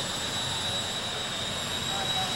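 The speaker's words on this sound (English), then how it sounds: "It is Chuck Haynes in a brand new Volcano Jet Dragster taking on Leland Blee." A Volcano jet dragster engine roars steadily with a high, thin whine on top, heard from a distance at an NHRA Canadian Open drag race at Budweiser Motorsports Park.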